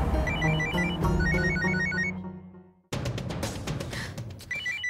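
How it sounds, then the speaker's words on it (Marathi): A mobile phone ringtone plays a repeating, bright melodic chime, fades out, then starts again amid some background rustling and movement. "नेमका क्लायंटचा फोन आलाय"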